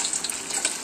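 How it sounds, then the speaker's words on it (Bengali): Sliced potato chips drop into hot oil and fry with a bubbling, watery hiss, brief and close, with no voices. "দেখো আমাদের চিপস ভাজা হচ্ছে"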